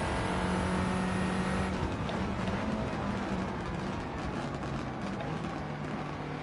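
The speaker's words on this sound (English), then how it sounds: "Car sounds amazing, man. This is the Audi." Audi race car engine in Gran Turismo 7, driven from the cockpit with traction control off, hums steadily at high revs throughout, with a sustained tonal drone that shifts pitch slightly, under continuous game noise.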